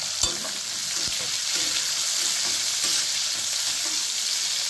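Chopped onions fry and sizzle steadily in a pan for an Odia prawn and potato curry, a continuous close hiss with a couple of brief stirring knocks near the start.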